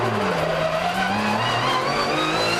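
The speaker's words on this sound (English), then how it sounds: "I love how rough and gritty race cars sound at like low speed, low RPM, right?" Porsche GT3 Cup race car rumbles along public roads in the German countryside at low speed and low RPM, giving a rough, gritty, steady engine drone with a shifting pitch and no voices.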